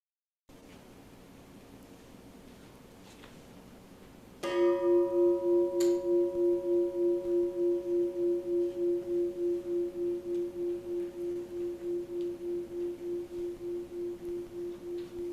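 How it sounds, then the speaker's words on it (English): A meeting house church bell rings out after a quiet start, a single loud strike followed by a second and then a long, slowly pulsing hum that decays gradually, heard alone without voices. "listening to that wonderful bell, I realize the upper room probably can't hear it"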